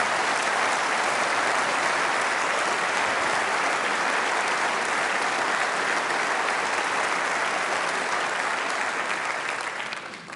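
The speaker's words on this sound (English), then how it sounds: "Can we please have a huge round of applause?" A large audience at the Conservative party conference in Birmingham breaks into a loud, sustained round of applause for the venue staff, continuous clapping throughout with no speech over it.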